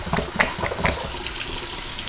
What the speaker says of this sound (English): you're gonna wash your hands again.